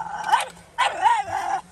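A dog barking excitedly near a motocross bike being worked on, three close yelping barks in quick succession with brief pauses between them.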